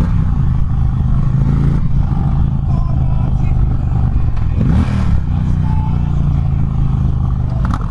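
An Indian Challenger bagger motorcycle engine drones steadily as it accelerates, with a shifting pitch around the midpoint, loud and close under wind noise.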